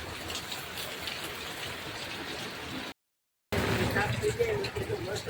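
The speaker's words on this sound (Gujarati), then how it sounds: "અત્યારે વરસાદ ચાલુ જ છે।" Steady rain falling, a dense hiss of drops on surfaces, briefly cut off then resuming slightly louder with faint background voices.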